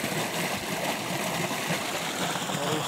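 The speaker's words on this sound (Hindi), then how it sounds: "ये पाइप लाइन से पानी निकल रहा है और इस साइड को जा रहा है" Water pours steadily from an irrigation pipeline into a wheat field, a continuous broadband rushing and gurgling flow heard up close with no pauses.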